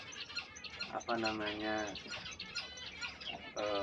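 Small finches chirping and twittering in quick, busy bursts on a house rooftop, fairly faint, with a soft voice murmuring underneath.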